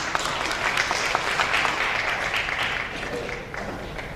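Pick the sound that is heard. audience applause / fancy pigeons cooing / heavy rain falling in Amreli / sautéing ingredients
audience applause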